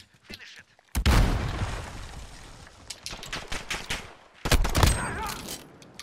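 Gunfire from a weapon used for sniping in Call of Duty: Modern Warfare alpha: two loud, close, sharp bursts of shots with scattered faint distant shots between them.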